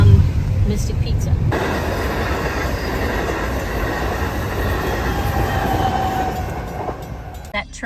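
A train rolls past in the coastal town of Mystic, Connecticut, a loud, steady rumble and rush of wheels on rail that holds for several seconds and then fades, with people talking over it.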